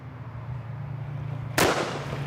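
A single sharp M16 rifle shot cracks out at an outdoor shooting range in Ecuador, loud and close, breaking a steady low background hum and trailing off into a brief noisy decay.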